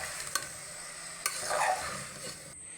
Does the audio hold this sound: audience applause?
no